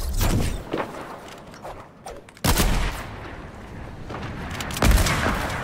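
A video game trick-shot session with sharp gunfire cracks, several loud booming shots with a heavy one near the middle and another toward the end, over busy game noise.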